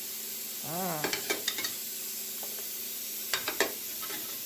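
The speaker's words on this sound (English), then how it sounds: "nutmeg, grated nutmeg to the flavor. I stir this." Homemade chocolate with coconut milk and grated nutmeg simmers in a pot under a soft hiss, while a spoon clinks and scrapes in short bursts, clustered at the start and again near the end, close by.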